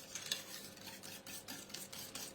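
A spoon stirs a vanilla-flavoured muffin pain perdu mixture in a bowl, giving a soft, steady scraping swish that repeats in an even rhythm, close up, with no voices.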